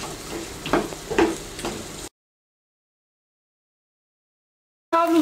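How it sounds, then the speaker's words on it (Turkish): Chopped zucchini sautéing in a pan with chili flakes and salt, a soft sizzle with a few stirring scrapes, cutting to silence before the sizzle briefly returns. "Bir 2 dakika bu şekilde kavuracağım."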